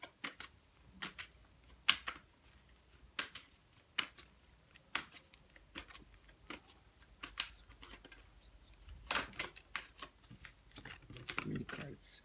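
Tarot cards are handled and shuffled in a series of quick, close flicks and taps at irregular intervals, some louder than others, with a voice speaking under them.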